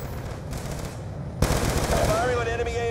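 Automatic gunfire from a Call of Duty: Black Ops II battle, a steady rattle that jumps suddenly louder partway through and keeps going, mixed with other combat noise and radio-style chatter.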